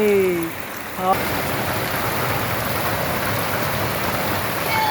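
Rain pours down in a village as a dense, even hiss of drops on surfaces, with a brief voice at the very start before the downpour continues alone.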